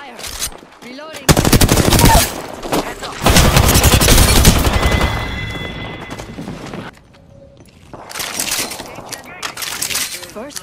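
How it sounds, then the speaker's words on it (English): Rapid bursts of automatic gunfire in the video game Apex Legends, loud and close, coming in several volleys separated by brief lulls, with game sounds around them. "Taking fire! The enemies are shooting at me."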